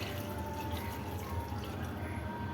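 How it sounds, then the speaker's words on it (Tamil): Water poured into a cooking pot for a Tamil-style kovakkai dal, a steady close trickling splash running throughout at a low, even level. "ஒரு 2 கப்பு தண்ணி ஊற்றிக்கலாம்."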